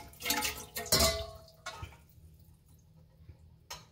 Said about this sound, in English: So just go ahead and put in the water